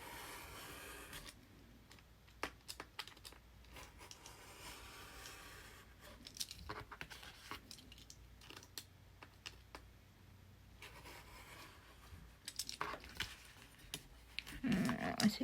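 Scissors cut paper in a quiet room with faint, irregular snips and clicks that come in short bursts and grow a little louder near the end. No one talks.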